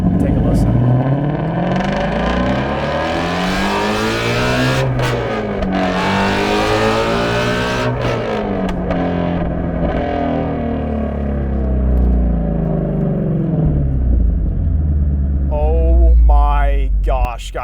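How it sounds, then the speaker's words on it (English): A Shelby GT350 engine with 526 horsepower, driven in Sport mode with its exhaust valves open, roars loudly and steadily as it accelerates through the gears, with rising and falling pitch sweeps and a sharp rev burst near the end. "we'll jump over to Sport, open up those exhaust valves, and take a listen"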